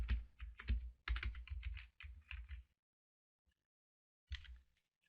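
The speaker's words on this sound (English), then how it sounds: "where it says search plugins, you type in WooCommerce" Close, crisp typing on a computer keyboard comes in quick bursts of clicking keystrokes, with a pause and then a few final taps.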